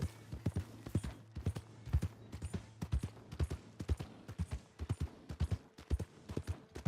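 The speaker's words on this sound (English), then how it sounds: "My horse! Am I glad to see you?" Horse hooves clip-clop in Red Dead Redemption 2, a steady close rhythmic trot of sharp hoofbeats continuing throughout with no talk over them.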